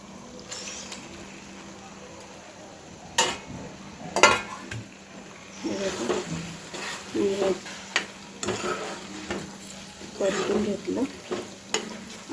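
Mushrooms being stirred in a frying masala mixture over a medium flame, with a steady sizzle and repeated sharp scrapes and clatters of a spoon against the pan, close by, with some talking.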